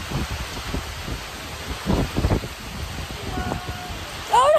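Heavy rain pours down over a pond during a wet fishing trip, a steady broadband hiss with a few louder bursts and a brief squeak near the end.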